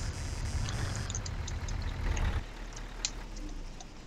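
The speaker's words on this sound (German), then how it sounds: "So, der Motor geht alleine aus" Vehicle engine in the game Arma 3 Altis Life idles in a steady low rumble, then cuts out partway through, leaving quieter background sound with faint clicks.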